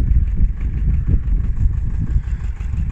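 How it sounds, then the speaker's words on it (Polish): An Ursus C-330M farm tractor idles close by, a steady low, lumpy engine chug with a rhythmic thumping pulse and no voices. "Traktor, pomimo tego, że myślałem, że akumulator jest rozładowany, odpalił tam."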